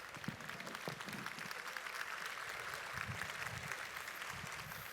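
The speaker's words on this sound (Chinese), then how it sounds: "我们再给我们的 Team Elite Backers 4 Mr. Jolie 一个最热烈的掌声" Audience at a Philippine business event applauding, a faint, distant, even patter of many hands clapping that holds steady with no talk above it.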